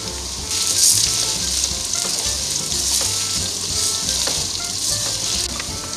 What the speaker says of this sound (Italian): zucchine tagliate a dadini, che faccio poi rosolare